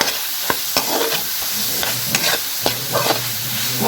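Tomatoes and Baguio beans sautéing in a pan, with a steady close sizzle and repeated sharp scrapes and clacks of a utensil stirring at irregular intervals.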